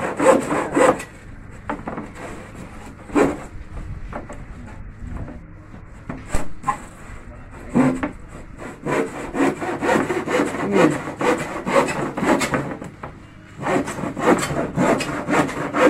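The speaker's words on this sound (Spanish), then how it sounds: "Sí se puede con esas sierras" A hand saw cuts through wood in repeated rasping strokes, each back-and-forth pull loud and close, with brief pauses between bursts of sawing.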